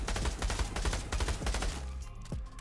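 Rapid pistol gunshots in the VR shooter Pavlov crack off in a quick, dense string of sharp reports for about two seconds, then a single last shot after a brief pause.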